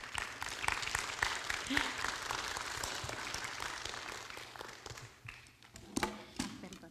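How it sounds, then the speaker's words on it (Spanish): A church congregation at a Spanish-language service gives a sister a round of applause. The clapping is moderate and uneven, with some taps and thumps, and brief voices near the end. "Y la hermana, vamos a darle un aplauso"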